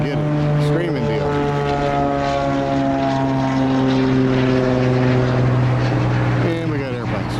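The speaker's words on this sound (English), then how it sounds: "And we got airplanes. Got an airport real close in Carson." A propeller airplane flies overhead near the Carson airport, a loud, steady droning hum whose pitch slides and shifts as it passes, filling the whole stretch without pause.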